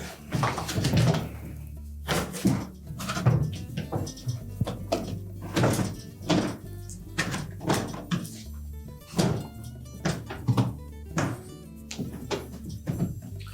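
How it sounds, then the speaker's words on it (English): A rapid series of hollow thunks and clunks as a Whirlpool dishwasher's inner door panel is knocked and pushed into place, repeating unevenly at close range with no one speaking. "when we install that door panel, we're going to tuck the top end down in first"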